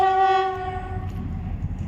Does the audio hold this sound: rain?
no